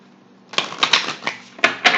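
Moon tarot cards being shuffled by hand in short riffling bursts, close and crisp, several quick rustling strokes after a brief quiet start.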